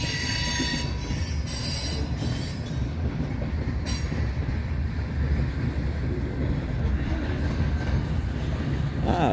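A loud freight train rolls through Hobson Yard in Lincoln, Nebraska, its wheels squealing shrilly over a heavy, continuous rumble of cars, with faint rhythmic clacking and no talk.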